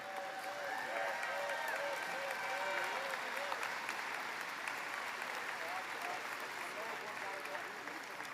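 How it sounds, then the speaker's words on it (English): Audience applause for a group of VFW commanders at an awards ceremony, a steady wash of clapping that fills the whole stretch, with a few voices and faint cheering mixed in. "Let's give this special group of commanders a big round of applause"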